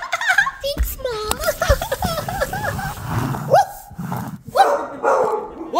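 A pet dog barks and yips in a family home in sharp, loud bursts, mixed with a child's giggles and speech overlapping the barking.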